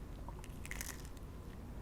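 Teeth biting into a crispy cheese-crusted beef taco shell, a few sharp close crunches clustered in the middle, fairly quiet over a low background hum.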